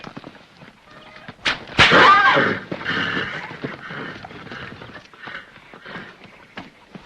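Horse hooves clatter loosely as an unbroken horse is being worked, with a sharp burst of thumps and scuffing followed by softer, irregular steps; a voice is briefly heard nearby.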